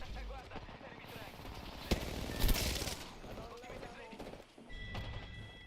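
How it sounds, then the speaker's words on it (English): Gunfire in a multiplayer shooter video game: rapid bursts of shots crackle at moderate distance with louder cracks, while someone talks over them. "Hey, they're shooting at me."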